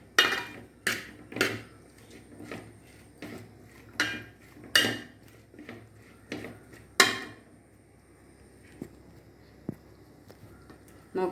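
Cauliflower being stirred with turmeric powder in a pan, a utensil knocking and scraping against the metal in a string of sharp, close clinks, busy at first and thinning to sparse taps.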